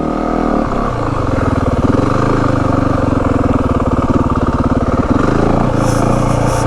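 A Yamaha WR450F dirt bike engine runs loud and close with a rapid, steady thumping beat, its pitch shifting slightly as the rider feathers the clutch through slow riding.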